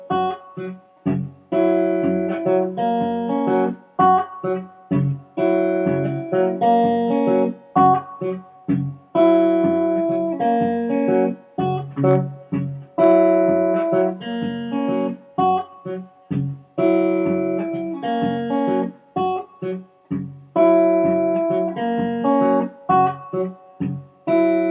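Fingerstyle guitar phrase picked with thumb and fingers, from a lesson on a song: a steady, close, clean run of plucked notes and bass thumbs repeating in short patterns for the whole stretch, with no talking.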